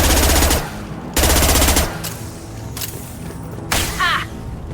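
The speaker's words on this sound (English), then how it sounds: "He's gunning down his own crew to keep control?" Automatic gunfire in the video game Mass Effect 2, two loud sustained bursts of rapid shots followed by quieter scattered fire and ambient game sounds.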